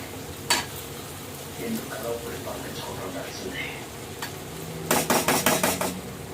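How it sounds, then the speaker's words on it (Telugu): Onions fry in a pan with a soft steady sizzle, topped by a quick run of spoon clatter against the pan near the end, all heard close up. "ఉల్లిపాయలు అయితే వేగినాయండి"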